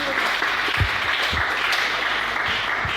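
A French church congregation bursts into steady, loud applause, a dense clapping crowd filling the hall for a few seconds.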